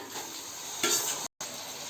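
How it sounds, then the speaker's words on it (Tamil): Chopped tomatoes sautéing in a pan for chicken biryani give a steady close sizzle, with one brief stirring scrape and a short cut in the sound near the end. "4 தக்காளி கட் பண்ணி வச்சுருக்கேன், ஆட் பண்ணிவிட்டேன். வதக்கிக்கலாம்."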